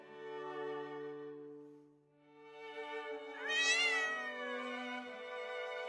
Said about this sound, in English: You're just a little kitty.